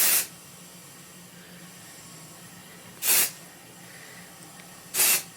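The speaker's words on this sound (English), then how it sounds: "I'm just going to spray it at my roots." Living Proof Full Dry Volume Blast sprayed at hair roots in three short, crisp aerosol hisses, each separated by a few seconds of quiet.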